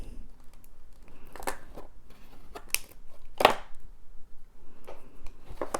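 Scissors snip and crinkle through a plastic package of beads, a few sharp cuts and rustles standing out close against quiet room background.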